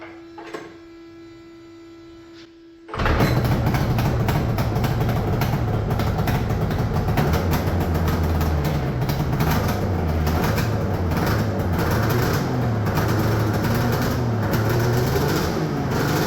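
A homemade turbocharged two-stroke engine running rich with too much fuel starts abruptly after a quiet hum, then drones loud and continuous at close range with a rough, fluttering pulse and no talk over it.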